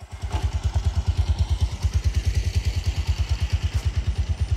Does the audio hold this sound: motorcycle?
yes